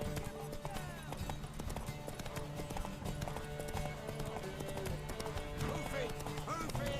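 Horse hooves clip-clop in a fast galloping rhythm in The Witcher 3, steady and fairly faint under game music and shouting voices.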